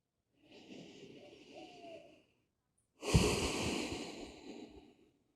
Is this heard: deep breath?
yes